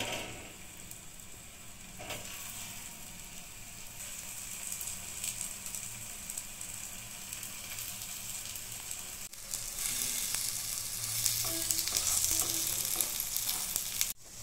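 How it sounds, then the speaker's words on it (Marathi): Raw banana and potato cutlets shallow frying in ghee, a steady close sizzle and crackle throughout that grows louder and busier in the last few seconds, with no talking. "आता मी कटलेट शॅलो फ्राय करून घेते।"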